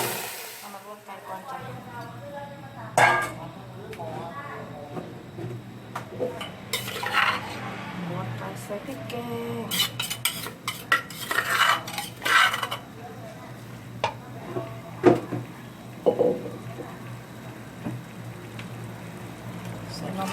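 Metal utensils scrape and clatter against a pot as chicken and sour bamboo shoots are stirred and tossed for a Thai curry, with intermittent clinks over a steady background hum.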